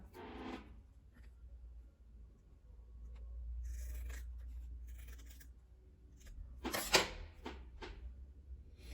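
Scissors cutting through a folded fabric square for patchwork, faint soft snipping and rustling close by on a quiet table, with a sharper cut near the end.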